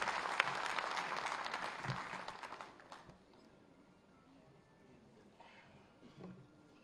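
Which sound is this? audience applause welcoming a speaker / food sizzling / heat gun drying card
audience applause welcoming a speaker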